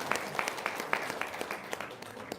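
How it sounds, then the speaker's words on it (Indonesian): Applause from an audience at a talk event, a steady wash of many hands clapping with sharp peaks throughout, fairly close and moderately loud, with no voices. "Tepuk tangan dong untuk Rohma."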